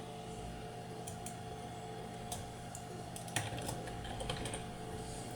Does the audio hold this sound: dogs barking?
no